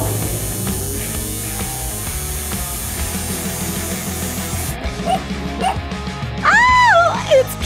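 A dog barks and yips, mostly in a few short, higher-pitched bursts toward the end, heard close over a steady bed of background music.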